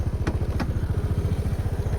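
A high-horsepower farm tractor engine chugs close by in a steady, rapid low-pitched thump, loud and continuous with no talking.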